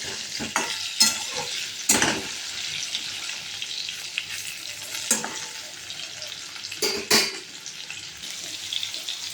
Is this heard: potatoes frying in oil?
yes